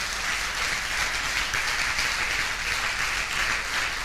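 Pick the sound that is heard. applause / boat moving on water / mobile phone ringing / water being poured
applause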